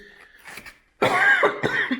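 A few harsh coughs close by, following a brief soft vocal sound, rough and throaty.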